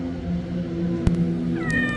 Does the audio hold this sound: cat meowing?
yes